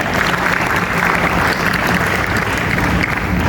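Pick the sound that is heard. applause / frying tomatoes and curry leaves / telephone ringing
applause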